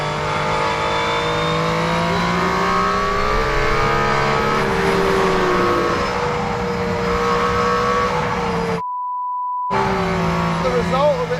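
A 1.6-litre race car engine out on a track, droning loud and close as it revs with steady, rich harmonics; a brief beep-like tone breaks in near the end.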